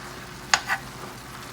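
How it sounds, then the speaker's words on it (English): A vegan meal in a pan gets a quick stir, two short scraping strokes against a faint background sizzle, with no one speaking. "Nothing is sticking at the bottom of my pan. Giving everything a quick stir."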